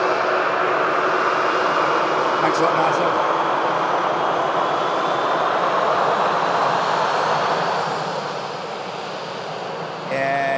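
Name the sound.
airplane at Manchester Airport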